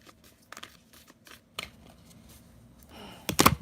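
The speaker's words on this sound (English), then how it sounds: "Alright, so almost done shuffling" Tarot cards riffle and slap in a few soft shuffles, ending in a louder burst as part of the deck spills out, close up and with no talking.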